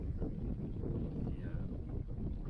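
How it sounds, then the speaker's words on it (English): Steady wind blowing on a Missouri River bank, a dense low rumble of gusts buffeting the microphone throughout with no pauses. "the wind is just straight into my face"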